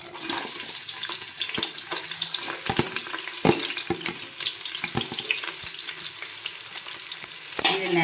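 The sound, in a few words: onions frying and being stirred in oil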